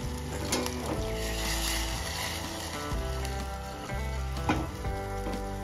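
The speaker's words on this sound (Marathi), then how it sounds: "आता इथे आपल्याला साखर मेल्ट होईपर्यंत आपल्याला हा तडका उकळून घ्यायचा आहे।" A sweet tempering for khaman dhokla simmers and sizzles in a pan while the sugar melts. The bubbling hiss is steady and close, broken by occasional clinks and stirring sounds.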